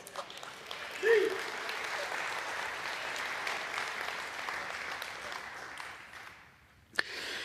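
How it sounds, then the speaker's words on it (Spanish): A church congregation bursts into sustained applause, steady and full for several seconds before tapering off, heard from a distance in a large room. "¿Le da un fuerte aplauso?"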